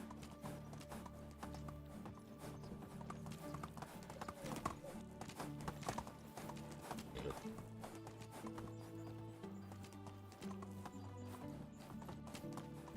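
Horse hooves in the medieval village game Medieval Dynasty, a steady rhythmic clip-clop of a horse moving at a walk, heard under game music and ambience.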